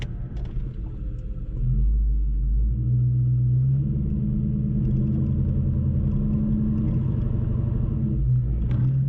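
New Edge Ford Mustang engine revved against the foot brake, a deep loud rumble that swells after a couple of seconds and holds steady around 1,500 RPM, with no talking.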